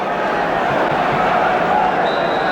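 Steady crowd murmur fills a 1975 football stadium before kick-off at QPR versus Tottenham, a continuous broad hum with no distinct cheers, loud and even throughout.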